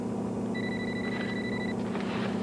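A telephone rings twice in a steady electronic warble, clear and fairly close, over a low room hum, in an indoor domestic scene from a 1999 daytime soap opera.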